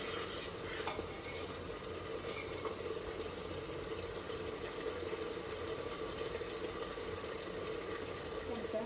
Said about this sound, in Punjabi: ਇਸ ਮਸਾਲੇ ਨੂੰ ਆਪਾਂ ਹੁਣ 15 ਮਿੰਟਾਂ ਤੱਕ ਭੁੰਨਣਾ